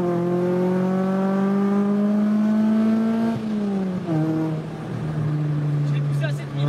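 A Ford Fiesta ST engine revs up high and holds a rising, buzzy tone for a few seconds, then drops and settles into a steadier lower drone, loud and close.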